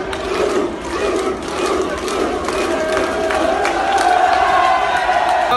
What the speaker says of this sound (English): conducting an Iceland chant on the top of a bus outside Halifax